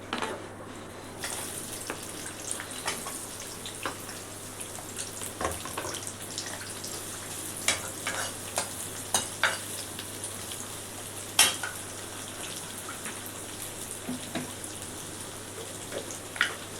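Onion fries with salt in a hot kadhai for ragda pattice, a continuous close sizzle broken by frequent spatula scrapes and clinks as it is stirred, with a steady low hum beneath.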